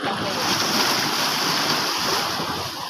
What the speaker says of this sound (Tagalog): Lakas na alon. Alon. Grabe lakas ng alon talaga.